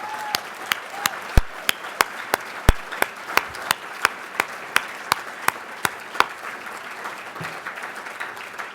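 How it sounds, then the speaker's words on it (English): Sparse, evenly paced claps ring out at a Boston Dining in the Dark benefit dinner, crisp single hand-claps in a steady rhythm over a soft background murmur that thins out toward the end. "One more round of applause."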